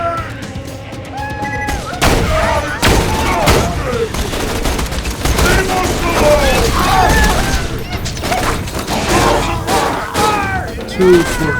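Grenade blasts and gunfire in Borderlands 2, a chaotic barrage of booms and rapid shots with overlapping shouts and game effects throughout.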